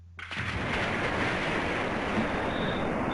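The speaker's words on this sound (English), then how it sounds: "Water spouted fiercely from the corridor wall." Water gushes fiercely from a corridor wall in a video game, a sudden loud onset that settles into a steady, broad rushing roar, sustained and close with no voices.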